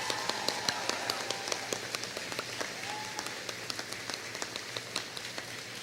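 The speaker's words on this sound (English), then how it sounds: "Let's give her one more round of applause for that," Audience applause at a school awards ceremony: steady, moderately dense clapping fills the hall for about six seconds, with individual claps standing out, no voices.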